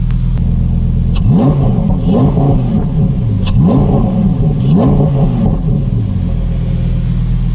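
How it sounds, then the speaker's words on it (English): A cold Lamborghini Huracan Tecnica V10 engine rumbles close by and revs in about five quick, rising throttle blips before settling back to idle. "That's the most I'll be able to rev it."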